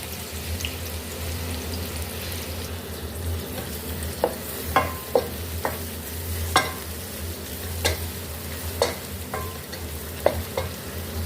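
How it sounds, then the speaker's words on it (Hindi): Onions frying in hot oil, a continuous close sizzle with occasional light clinks and scrapes of a stirring spoon against the pan. "प्याज को हमें फ्राई कर लेना है।"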